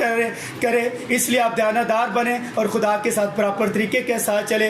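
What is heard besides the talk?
No distinct noise like a dog, phone or traffic.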